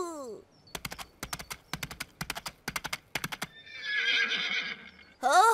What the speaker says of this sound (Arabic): ادعى تينكي وينكي بأنه حصان. تينكي وينكي حصان. كليبتي كلاب كليبتي كلاب